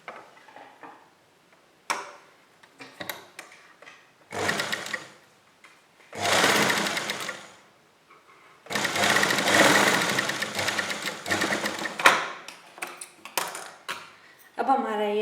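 A sewing machine stitches fabric while a kurti is being made, sounding in short bursts of rapid mechanical whirring separated by pauses, with someone speaking between and over the runs.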